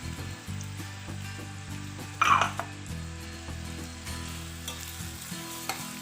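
Carrot fried rice with crushed chilies stirred in a hot pan, a soft sizzle under a low background hum, with scraping stir strokes and a brief louder clatter near the middle.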